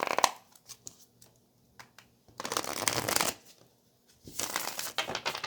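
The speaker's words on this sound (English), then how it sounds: "let's get one more shuffle" Tarot cards being shuffled by hand: a few quick taps and flicks, then two bursts of riffling, close and crisp, with no talking.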